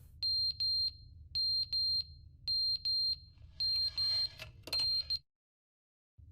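Repeated electronic beeps in The Stanley Parable, a steady high tone sounding in paired bursts at a regular rhythm over a low hum, ending with a louder cluster before falling silent.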